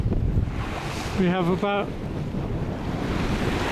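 Steady wind roar and surging waves at sea aboard the sailing yacht Mingming II in the Norwegian Sea, a constant loud rush throughout, with someone speaking briefly in the middle.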